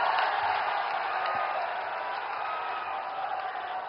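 Audience applause at a rally with Prime Minister Modi in Azamgarh, a steady loud wash of crowd clapping that holds evenly throughout.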